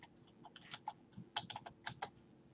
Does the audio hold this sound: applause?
no